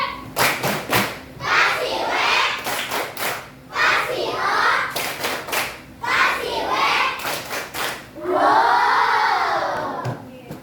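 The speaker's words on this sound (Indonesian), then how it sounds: "kita kasih tepuk WOW untuk Michael" Classroom children in an Indonesian school perform a group clapping chant, sharp bursts of claps in bunches separated by shouted chanting voices, loud and close, ending in a long sung or shouted call.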